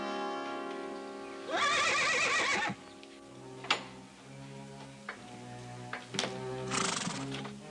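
A horse whinnies twice, a long shrill neigh followed later by another, with hollow hoof clops and ticking in between.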